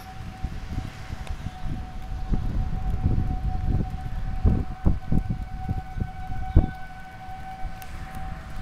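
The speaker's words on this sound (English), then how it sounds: "now the sirens are going off" A steady, wailing tornado warning siren holds one sustained tone throughout, with gusty wind buffeting the microphone and low rumbling beneath.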